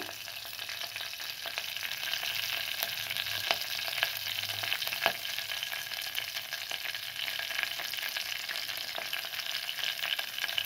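Curry leaves frying in hot oil for a bottle gourd curry, a fairly quiet, continuous hiss and crackle with light stirring throughout and no voices.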